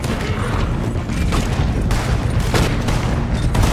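Rapid gunfire in Red Dead Redemption II: dense, overlapping shots crack in quick succession, loud and close, forming an almost continuous barrage.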